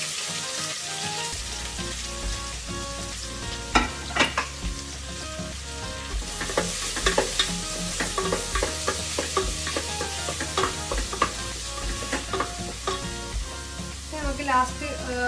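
Sliced onions sizzle and hiss steadily in hot oil in a pan, with frequent close scraping and clattering as a spatula stirs them throughout.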